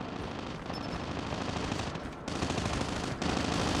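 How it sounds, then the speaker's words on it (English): A hostile sentry gun firing in Call of Duty: Mobile, sustained rapid automatic gunfire in a loud, dense, continuous rattle with brief dips, dominating the mix. "Hostile sentry gun in your AO."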